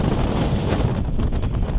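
On a very windy day outdoors at Coney Island in New York City, gusts buffet the microphone with a steady, loud low rumble and no speech.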